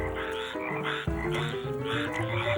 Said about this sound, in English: No such thing as too much frog, Junior.